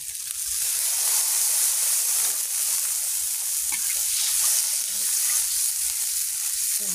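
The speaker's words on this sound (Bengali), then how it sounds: "তেল ছেড়ে ছেড়ে চলে এসছে। তো সামান্য জল দিয়ে দিব।" Fish curry cooks in a pan of hot oil that has started to separate, giving a steady, loud, close sizzle and hiss for the whole stretch, with no talking.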